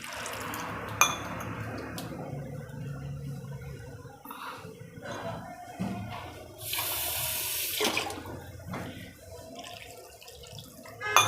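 Water runs and splashes into a bowl of dhokli batter, with intermittent pouring and mixing noises, close by and fairly quiet.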